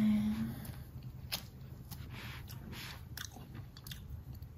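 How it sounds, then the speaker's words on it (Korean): Someone peels and eats a field-grown mandarin orange, with crisp bites and soft chewing sounds repeating close up over a low background hum, no talking. "노지귤이에요 맛있겠죠? 까먹어볼까? 까먹어봅시다."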